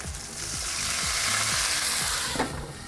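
A steady, close sizzle of a hamburger patty frying in a hot pan, with faint clinks from a utensil now and then.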